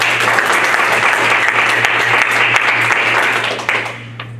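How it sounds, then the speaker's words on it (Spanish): A church congregation applauds during a sermon, a loud, dense burst of many hands clapping with a steady hum beneath, fading out near the end. "Un aplauso al Señor"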